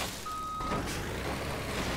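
A truck's reversing beeps sound in a farming and trucking video game with a tri-trailer rig, a single steady beep tone over loud, constant engine rumble.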